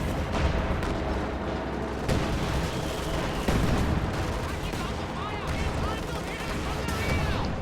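An LEFH artillery barrage rains down in a World War II strategy game, dense booms and rumbling explosions mixed with gunfire in a loud, continuous din, while a commentator talks over it.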